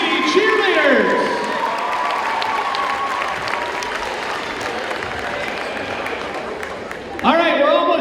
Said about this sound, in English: A big round of applause for your varsity cheerleaders.